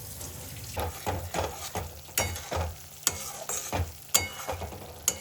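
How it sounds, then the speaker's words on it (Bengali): Masala frying in oil for chicken curry, stirred with a spoon in repeated scraping strokes over a soft steady sizzle, close up and with no talking. "মশলাটা আরেকটু কষাবো যত কষাবো আরো ভালো হবে রান্নাটা"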